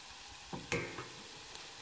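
Butter and spices sizzle quietly in olive oil in a pan, a soft steady hiss with a few sharp pops and clicks across the brief stretch, heard alone with no voices.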